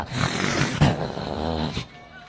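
A male dog growls in a low, rough rumble that swells and wavers for about two seconds before trailing off, close and fairly loud.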